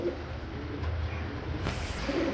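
Fancy and racer pigeons coo softly in a loft amid a constant noisy background, low murmuring calls without distinct clear repetitions, close but faint.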